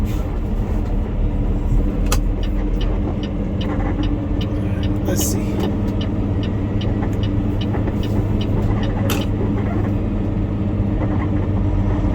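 Steady low engine rumble and road noise from a truck driving on a local haul toward a Costco distribution center between Gilroy and Tracy, running continuously throughout, with a person speaking briefly over it.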